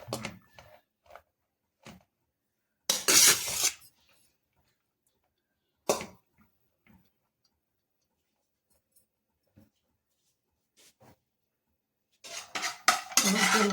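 Fried rice with soy sauce being stirred in a pan: a few short bursts of clinking utensil scrapes against the metal, spaced out with quiet gaps between.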